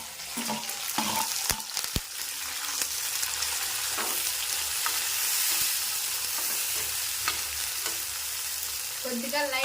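Tomatoes and curry leaves sizzle and fry in a pan for a chicken curry, a steady crackling hiss broken by a few sharp clinks of a stirring spoon, close and continuous without talk.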